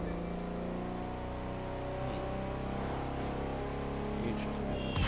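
A Koenigsegg V8 in The Crew 2 holds a loud, steady droning rev that climbs slightly in pitch, and a voice talks over the engine noise.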